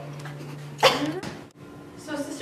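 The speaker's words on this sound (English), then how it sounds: "Besides a nagging cough." A single sharp, close cough bursts out, followed by a short breathy rasp, with quiet background tone around it.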